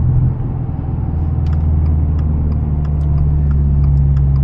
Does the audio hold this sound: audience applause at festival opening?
no